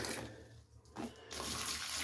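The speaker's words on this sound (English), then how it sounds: "what I do is just to consistently water, fill these" Water pours steadily into containers used for watering tomatoes in a greenhouse, a soft continuous rushing with a brief dip midway, faint and close with no talking.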